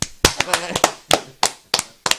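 A handful of sharp hand claps in an uneven, scattered rhythm, fairly close, with a voice faintly murmuring between some of them.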